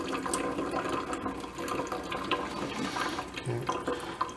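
Rinse water pours and splashes out of a pot of washed rice for chicken fried rice, draining in a steady continuous trickle with small splatters, close and fairly loud throughout.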